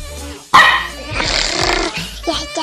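A husky dog lets out a loud, close bark that trails into growling, rough vocalising, with a person's voice around it.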